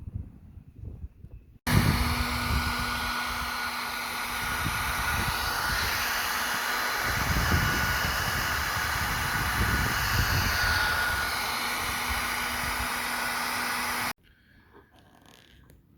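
A heat gun blows steadily on a chrome badge of a Ford Focus Mk2 ST, a loud continuous airy roar with a low hum that starts abruptly after a quiet moment and cuts off near the end.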